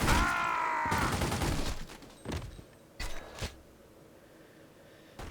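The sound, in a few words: gunshots from .45 pistol in video game The Godfather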